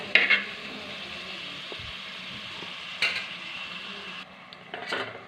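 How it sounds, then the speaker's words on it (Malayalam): Onions sauté in a pan for a mackerel fish curry, a soft steady sizzle with a few brief clinks and scraping stirs near the start and the middle, close and quiet, with no talking. "ഉള്ളി ഉരുവട്ട ഉള്ളി ഇട്ടിട്ട് നന്നാക്കി വഴറ്റി കൊടുക്കുക"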